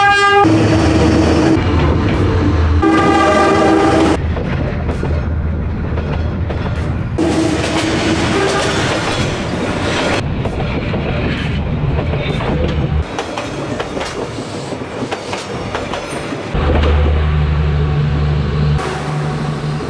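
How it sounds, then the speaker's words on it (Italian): A train passes close by, its loud horn sounding in long blasts amid the heavy rumble and clatter of railcars, the roar steady and near throughout, on a track running beside houses in Vietnam. "Sta arrivando il treno, inquadra il treno."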